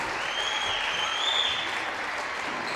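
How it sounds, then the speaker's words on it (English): A crowd at a girls' basketball game applauds parents, grandparents and guardians, producing a dense, even wash of clapping throughout, with a faint high tone running over it. "How about a nice round of applause for all our parents, grandparents, and guardians."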